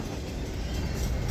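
An intermodal container freight train rolls past up close, a steady loud rumble of wheels and cars with faint clatter and no voices.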